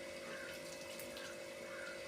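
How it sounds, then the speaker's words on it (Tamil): Water is sprinkled into pepper chicken curry as it cooks, giving a steady, dense hiss and sizzle with no break. "கறி வேகத்துக்கு கொஞ்சம் தண்ணி தொளிச்சு விட்டுக்கேன்."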